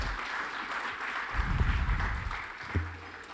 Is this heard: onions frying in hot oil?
no